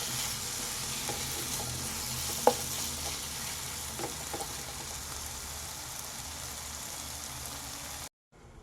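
Tomatoes fry with masala in a pan for a restaurant-style mushroom masala, a steady close sizzle with an occasional utensil tap, then a sudden cut to near silence at the end.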